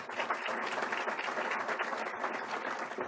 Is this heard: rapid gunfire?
no